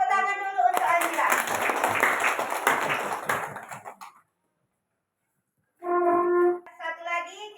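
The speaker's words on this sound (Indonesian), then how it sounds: "Kita tepuk tangan dulu untuk Azira." Students in a classroom clap together for a classmate, a dense burst of applause lasting about three and a half seconds. It is followed by a moment of silence, and a voice speaks briefly before and after.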